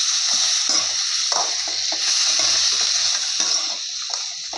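Tender arai keerai greens sautéing in a pan, giving off a loud, continuous bright hiss with brief watery crackles and a few stirring movements.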